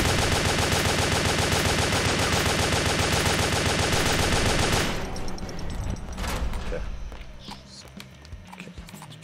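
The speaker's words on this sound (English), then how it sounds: "let's try this again with the SMG" SMG fire in a PlayStation 3 action game, a loud dense rapid burst lasting several seconds that cuts off abruptly, followed by scattered clanks and thuds of in-game activity.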